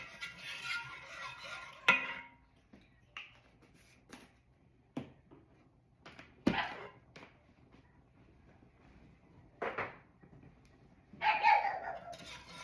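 A pet dog barks in a home kitchen while a meal is being cooked, a few scattered barks spread apart, with quiet stirring and utensil clatter between them and no one talking.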